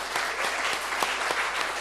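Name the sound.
church congregation applause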